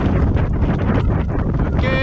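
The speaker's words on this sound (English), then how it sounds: "the famous wind has arrived" Strong wind buffets the microphone during a long-distance bicycle journey through southern Africa, a loud, continuous broadband roar that never lets up across the whole stretch.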